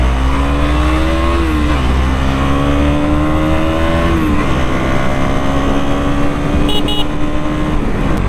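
A 2023 KTM Duke 200 engine drones loud and close while ridden two-up, its pitch stepping and climbing through a downshift with steady wind rush underneath.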